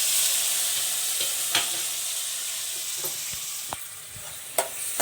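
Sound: tomatoes frying and being stirred in a pan

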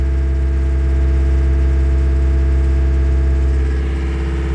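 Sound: John Deere tractor engine idling

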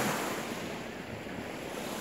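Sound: ocean waves at a beach

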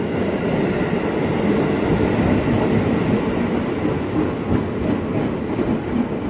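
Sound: KRL commuter train moving through Depok station

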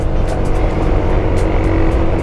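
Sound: motorcycle engine riding

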